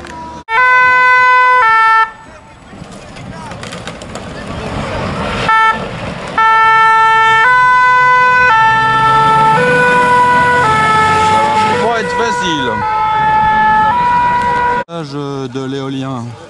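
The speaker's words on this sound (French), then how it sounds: "Le camion de pompiers, c'était pour la station-service." A fire truck's loud two-tone siren passes close by at a protest march against the Notre-Dame-des-Landes airport in February 2016, its stepping pitches continuing for over ten seconds amid crowd noise before a voice speaks at the end.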